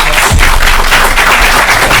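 An audience in a hall applauds after a presentation, a dense, continuous wash of clapping that stays loud and close throughout.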